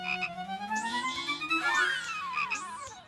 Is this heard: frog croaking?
yes